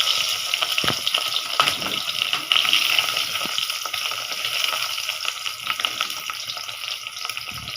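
Small eggs frying in oil in a pan, a steady close sizzle and crackle with occasional sharper pops and a clink or two, continuous and fairly soft, no one talking.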